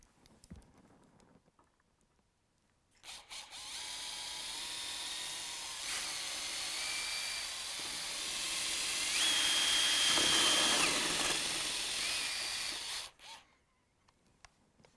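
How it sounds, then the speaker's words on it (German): A Festool drill bores a hole through a door for a peephole, a loud continuous whine of about ten seconds that rises in intensity near the end before cutting off. "wir setzen hier an und bohren jetzt hier in dieses kleine Loch rein."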